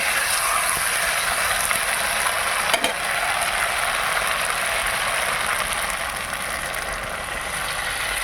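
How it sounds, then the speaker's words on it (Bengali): Water is poured into a pot of fried potato and cauliflower masala, producing a loud, continuous broadband sizzle and hiss with one short sharp burst near the start. "পরিমাণ মতো জল দিয়ে দিলাম"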